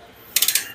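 A ratchet clicks rapidly as it tightens on a motorcycle side stand switch on an RFI 175cc bike, four quick close metallic ticks in a short burst followed by a fifth, heard alone.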